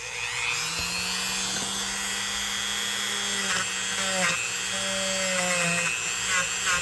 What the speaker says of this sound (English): let's hit it with the wire brush here